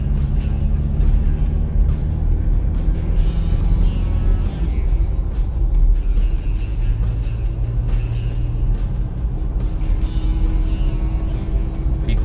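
Toyota Land Cruiser Prado 4x4 on the road, a steady, loud engine rumble and road noise continuing throughout with no pauses.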